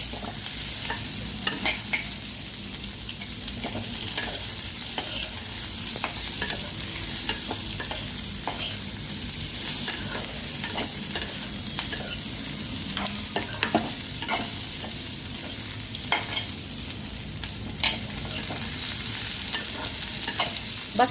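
Sliced onions fry in a pan for shahi paneer, a steady sizzle under repeated scraping and stirring strokes from a spoon, close and continuous throughout.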